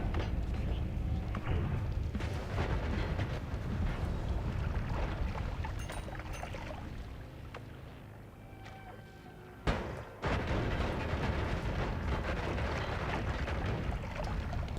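Continuous rumbling explosions fill the Noita game audio, a dense broadband roar with crackling debris and a sharp burst near the end after a brief dip, loud and unbroken with no speech.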